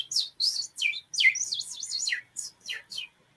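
A man imitates bird calls with his mouth, producing a quick run of high, sweeping chirps and trills, close and clear, that sound like several birds.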